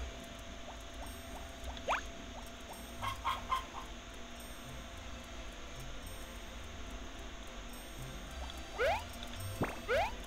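Chickens in the farming video game Harvest Moon: Back to Nature, with faint short clucks and chirps scattered at intervals over a steady background hum.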